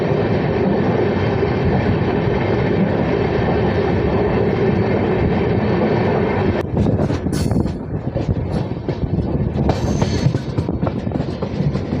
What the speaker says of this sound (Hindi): तो दोस्तों अब अपनी रणथंबोर एक्सप्रेस अपने तीसरे हॉल्ट इसरदा स्टेशन पर पहुंच